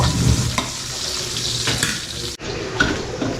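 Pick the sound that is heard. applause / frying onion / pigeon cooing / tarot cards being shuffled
frying onion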